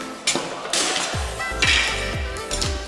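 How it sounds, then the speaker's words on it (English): Metal scraper prying paint-stuck covers off a wall, a series of sharp knocks and scraping clatters with hollow thumps repeating roughly every half second, close and fairly loud. "I have to use a scraper to remove it like this."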